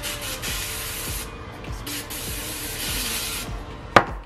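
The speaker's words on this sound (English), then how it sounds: "I'm gonna spray the little balls." Cooking oil sprays in short hissing bursts onto dough balls in an air fryer basket, several quick puffs in a row, followed by a sharp knock near the end.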